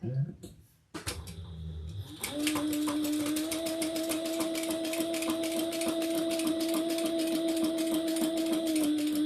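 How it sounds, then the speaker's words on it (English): A sewing machine runs a top stitch with Tech 70 Burgundy thread on a handbag, humming steadily at an even pitch for several seconds after a few brief clicks and a short start, with faint talk early on. "So we're just going to do a top stitch right there"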